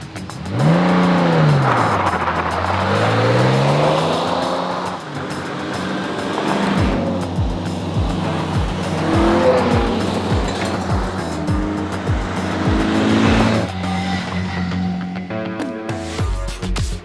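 A classic rally car, chasing an MGB on the Classic Marathon 2023 event, drives hard along a road, its engine loud and close, revving up and down through gear changes with rising and falling pitch and bursts of tyre noise, no voices.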